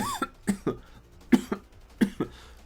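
Several sharp coughs in irregular succession, close and fairly loud, with short quiet gaps between bursts and no speech.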